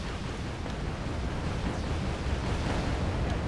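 Rockets launch and explode across a battlefield in Wargame: Airland Battle, a continuous loud roar of blasts and rumbling, with no talk over it.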